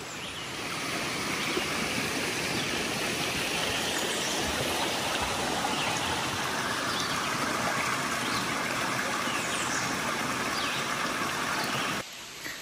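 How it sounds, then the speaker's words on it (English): Steady rushing of a stream runs continuously and fairly loud throughout, a broad watery hiss with no talking, cutting off abruptly near the end, at Macedonia Brook State Park. "Water running. You can probably hear it in the background."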